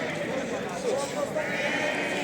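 Lambs bleat at the Aksaray livestock market, several overlapping calls amid a busy crowd murmur, with people talking nearby.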